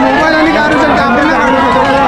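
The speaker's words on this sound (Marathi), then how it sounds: "हे बघा गर्दी बघा, गर्दी बेकार आहे." Dense crowd at a Ramnavami fair in Pajpandhari, a continuous close babble of many overlapping voices filling the whole moment, steady and loud with no single sound standing out.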